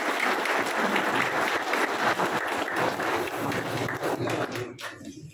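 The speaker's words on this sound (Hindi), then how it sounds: "भरपूर तालियां होनी चाहिए।" An audience at a ceremony where a music teacher takes on his students claps loudly and briskly for several seconds, a dense, lively wash of hands that drops away abruptly at the end.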